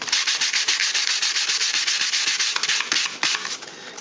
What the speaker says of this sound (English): Using regular sandpaper, you can try to smooth down any irregularities